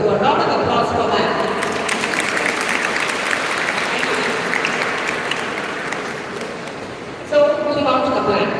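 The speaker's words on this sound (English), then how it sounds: "So a round of applause for that." A school audience gives a long, steady round of applause, dense clapping that stays loud and even throughout, with a brief swell near the end.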